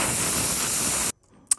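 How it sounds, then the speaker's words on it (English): A pressure cooker lets out a loud, steady hiss of steam for about a second, then cuts off abruptly into near silence with a faint, brief click. "That's a pressure cooker."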